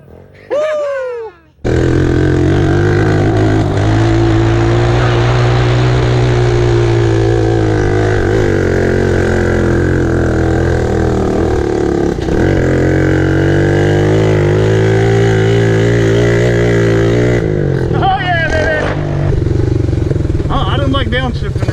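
An off-road vehicle engine labours loudly and steadily in first gear while climbing a steep rocky hill, its low droning growl holding close and constant, with brief talk at the start and end.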